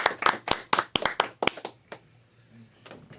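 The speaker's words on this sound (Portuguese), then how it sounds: "vamos terminar isso com uma salva de palmas" A small group claps a brief, close round of applause after a podcast episode. The sharp individual claps come quickly for about a second and a half, then fade into near silence with a faint voice afterwards.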